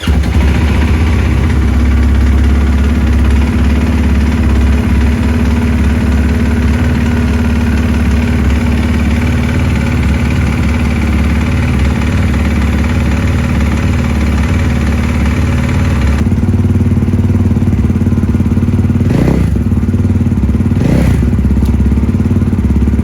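Engine of a newly delivered motorcycle idling steadily up close, a loud, continuous low rumble that thins out near the end, with a couple of dull thumps.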